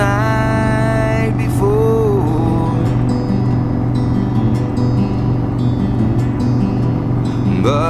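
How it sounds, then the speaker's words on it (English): A Harley-Davidson motorcycle engine droning steadily while riding on an open road, a loud continuous low rumble with wind noise and some shifting tones layered over it. "listen to the engine moaning out his one long song"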